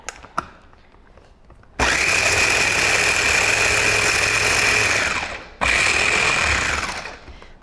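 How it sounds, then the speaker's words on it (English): A small kitchen blender minces ingredients for tuna in two loud bursts, a long whirring run followed by a brief pause and then a shorter second pulse, with a steady motor whine throughout. "we are just using our little contraption here to blend it up"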